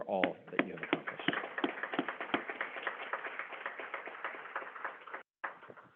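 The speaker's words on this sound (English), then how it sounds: "I think this calls for a round of applause for all that you have accomplished." Graduation audience at a NYC CERT ceremony clapping, a moderate spread of individual claps that thins toward the end with a brief gap near the close.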